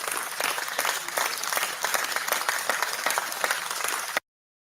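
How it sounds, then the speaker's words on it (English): Clapping from participants in an online WordPress website-building class, a dense and steady burst of applause at close range that runs for about four seconds and then cuts off abruptly into silence. "you want to hit me with some claps?"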